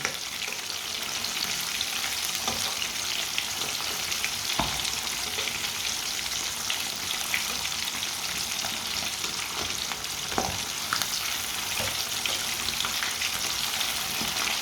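Fish frying in a hot pan during Punjabi-style home cooking, a steady dense sizzle with occasional sharper pops and spatters as it is turned over, continuous and fairly close throughout.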